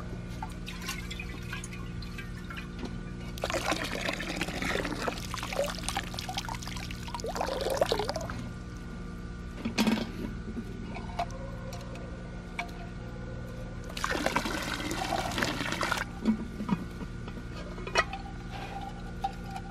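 Water poured over restored, formerly rusty cast iron outdoors at dusk, heard as two splashing pours separated by quieter dripping and faint ticks.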